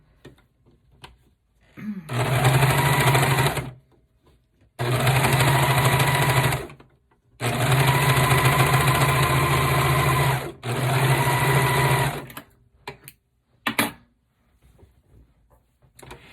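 A sewing machine stitching the side seams of a shirt and sweater runs close and loud in four long steady bursts separated by short pauses, then gives a few brief taps at the end.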